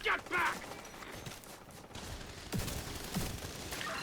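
Shotgun fire in a video game, a few sharp blasts scattered through the clip amid game noise and excited talk from a player.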